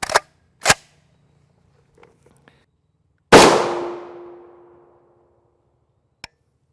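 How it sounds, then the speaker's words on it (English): Rifle rounds fired from a 13-inch barrel at a Hesco 4800 Level IV armor plate: two sharp shots, then a loud impact with a long ringing metallic tail, and a final faint crack. "we've got one round of this that we'll shoot from this 13-inch barrel"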